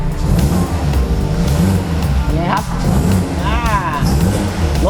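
A 2011 Chevrolet Cruze engine runs steadily with a low, rumbling drone, revving up briefly, while a person talks over it.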